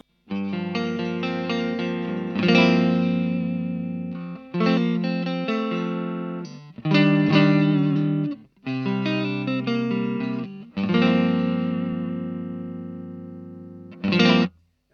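Electric guitar through an overdrive pedal into an Orange O Tone amp plays chords in several bursts separated by short pauses, each ringing and decaying, loud and close.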